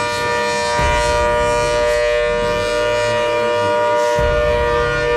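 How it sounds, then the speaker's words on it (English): A hurricane siren blares as a loud, sustained, steady howl made of many stacked tones, with a deep rumbling drone underneath and no voices. "Next is Hurricane Siren."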